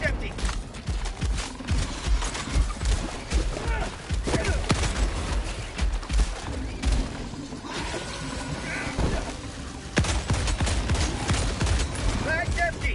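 Sustained automatic gunfire and explosions in a Helldivers 2 firefight, loud and continuous throughout, with a voice talking over the shooting.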